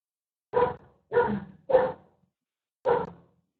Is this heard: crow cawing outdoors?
no